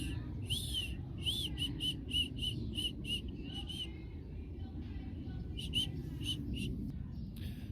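A goshawk in training gives a rapid series of sharp, high-pitched calls, repeated in quick bursts, then pauses before a few more, close by over a low background rumble.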